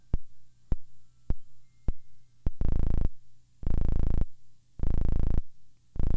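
Sharp electronic clicks from a DIY 555-timer synth with a frequency divider tick at a steady beat, then give way to loud, buzzy synth bass tones pulsing in long, evenly spaced bursts.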